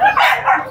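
Small dogs, including a male and female Jack Russell, yip and bark in a quick burst at a pet market, close by and fairly loud.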